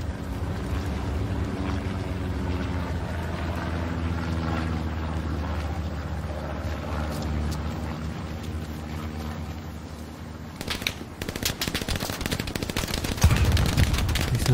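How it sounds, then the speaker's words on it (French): Gunfire in the World War II shooter Hell Let Loose, set in Normandy: a steady, dense wash of distant battle noise with rattling shots throughout, turning into sharper, louder bursts close by near the end. "Qui tire."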